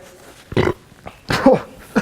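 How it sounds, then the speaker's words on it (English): A person burps several times in short, guttural, croaking bursts, close and loud, spaced irregularly over a quiet background. "Even my burps are sounding unappetizing."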